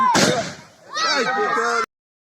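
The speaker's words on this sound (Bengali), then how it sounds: "আপনারা দেখতেছেন এই রাতের বেলাতে এই আতশবাজি।" Fireworks go off at night during a birthday celebration: one sharp, loud burst, then a short stretch of voices and tonal sound that stops abruptly.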